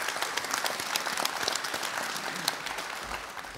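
A large audience claps steadily at a 2016 university degree ceremony to congratulate top-ranked students from each college; dense, even applause heard throughout without talk.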